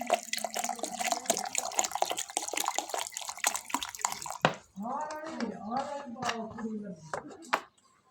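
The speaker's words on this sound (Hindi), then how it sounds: "पानी जो है वो एक बार ही डाल लेंगे" Water poured into a blender jar for peach juice, splashing and trickling for several seconds in a kitchen, with someone talking over it.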